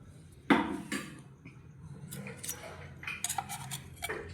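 Spoon clinks and scrapes against a bowl while a ragda pattice patty mixture with turmeric, garam masala, flour, coriander, crushed ginger and green chilies is mixed. The taps and knocks come close and irregular, with quieter scraping between them.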